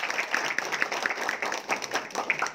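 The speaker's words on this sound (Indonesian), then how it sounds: "tepuk tangan untuk Wahyu." An audience at a community distributor training meetup applauds a person called up front, a dense, steady patter of many hands clapping close by for a few seconds, with a faint voice mixed in.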